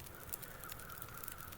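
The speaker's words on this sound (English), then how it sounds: "a murder of crows circling up ahead might suggest an animal carcass or even a human" Crows caw in The Long Dark, a few short harsh calls over a steady outdoor wind bed, fairly distant, with no voices.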